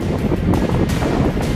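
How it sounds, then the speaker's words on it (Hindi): Strong wind from Cyclone Biparjoy roaring and buffeting loudly against the microphone in Dwarka, India, with continuous gusty rushing noise and no voices. "हवा के शोर को आप इस वीडियो में सुन सकते हैं।"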